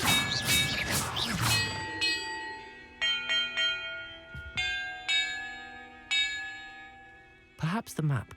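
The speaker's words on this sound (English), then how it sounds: "Perhaps the map contains clues about the order I'm supposed to ring the bells in." Bells in Hogwarts Legacy ring out in a series of clear, sustained metallic strikes, each tone hanging and decaying, spaced irregularly after a burst of spell effects, with another magical whoosh at the end.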